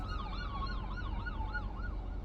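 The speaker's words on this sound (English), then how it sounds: "It's an ambulance and it's sitting right there." An ambulance siren wails close by, a loud, rapid rising-and-falling yelp repeating steadily over a low traffic rumble.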